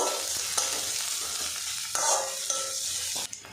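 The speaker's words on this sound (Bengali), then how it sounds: "পেঁয়াজটা আমি একটু লাল লাল করে ভেজে নেব।" Thinly sliced onions fry in hot mustard oil, giving a steady, close sizzle with a few scraping stirs of a spatula throughout; no one speaks.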